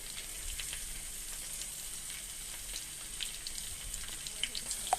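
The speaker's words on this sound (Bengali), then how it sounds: "বেশি না পাঁচ মিনিট মতো নাড়বো" Raw mango pieces fry in oil for a pickle, producing a continuous close hiss and sizzle with small crackles and faint stirring taps, steady and unaccompanied by speech.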